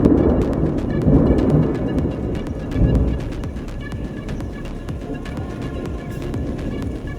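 Thunder from a rotating thunderstorm rolls as a deep, continuous rumble with heavier swells near the start and around three seconds, then a steadier low growl, with no voices.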